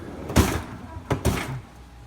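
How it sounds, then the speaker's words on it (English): A stuck bottom freezer door on an LG refrigerator is tugged open, making a few sharp thuds and scraping bumps, two close together and then a softer rattle, with no speech. "the freezer door gets stuck like that"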